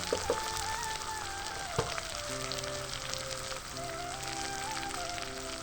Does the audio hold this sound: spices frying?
yes